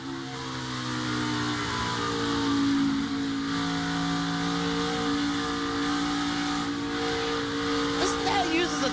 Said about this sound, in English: Listen to how he uses the throttle. He's on the throttle, off the throttle, on the throttle, off the throttle.